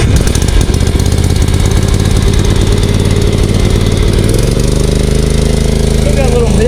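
Small lawn mower engine running steadily after a throttle cable adjustment, with a slight roughness from debris in the carburetor; loud and close, a continuous drone whose pitch settles and evens out partway through.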